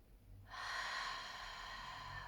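Ujjayi breath drawn through a constricted throat with the mouth open, a single close, steady hissing breath that starts abruptly and holds for about two seconds.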